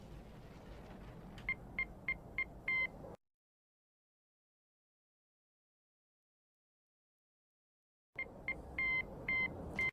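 Morse code beeps from the Shaolin Shuffle zombies Easter egg in a video game: two groups of short, clear electronic tones over a faint background hum, separated by several seconds of total silence.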